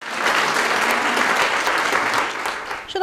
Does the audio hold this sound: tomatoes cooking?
no